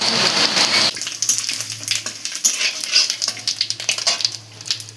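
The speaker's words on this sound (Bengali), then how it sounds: "এবার ওই তেলেই ফোড়ন দিয়ে দেবো তেজপাতা শুকনো লঙ্কা" Bay leaves and dried red chillies hit hot oil left from frying rohu fish, giving a loud, steady crackling sizzle with sharp spits and pops throughout, close up and with no talking.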